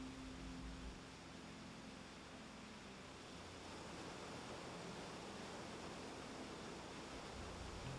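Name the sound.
Monggye Falls waterfall at Baegyangsa temple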